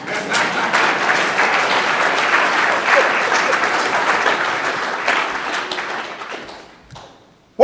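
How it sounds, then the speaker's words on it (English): Enthusiastic crowd applause during a keynote address at a forum, strong continuous clapping that holds steady and then fades out to near silence at the end. "Y'all ought to applaud for something."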